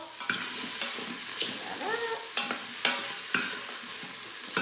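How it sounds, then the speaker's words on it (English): Food sizzling loudly in a hot pan, a constant crackling hiss punctuated by the scrape and clack of a utensil stirring every second or so. "do you hear that sizzle?"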